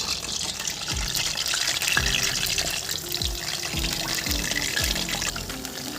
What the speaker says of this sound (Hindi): अभी जो है मछली इसमें डालते हैं एक एक करके और इसको करते हैं फ्राई।